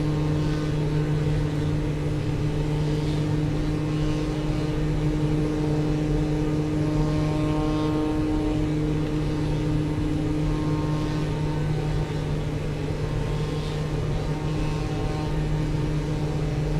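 A simulated aircraft engine in Microsoft Flight Simulator 2024 drones with a loud, steady hum and sustained tonal whine as the throttle comes up, with no voices.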